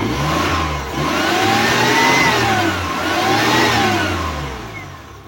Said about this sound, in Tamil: வண்டியை ஸ்டார்ட் பண்ணுறேன்.